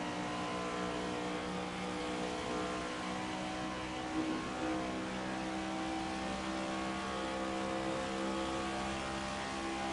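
A NASCAR race car engine in a racing video game holds a steady, droning rev with sustained engine tones. It stays fairly quiet and continuous, with no talk over it.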